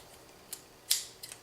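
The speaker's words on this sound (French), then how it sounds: "ciseaux de couture" Sewing scissors cut through a t-shirt in three crisp, close snips, with the middle cut loudest, against a quiet room.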